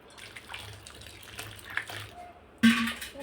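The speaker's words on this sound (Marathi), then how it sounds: "थोडंसं अजून पाणी टाकते यामध्ये" Water pours into a sesame kurdai mixture, a short splashing gush that starts abruptly near the end after quiet kitchen background.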